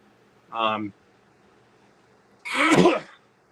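A short vocal sound, then one loud, sharp sneeze close by, with quiet in between.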